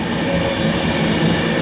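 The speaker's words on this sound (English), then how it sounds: "The 12:36 London Avanti West Coast service to Birmingham New Street from London Euston" Avanti West Coast Class 390 Pendolino unit 390117 running through Coventry station on the West Coast Main Line, a steady close rumble of rail and carriage noise with a low hum and no voices.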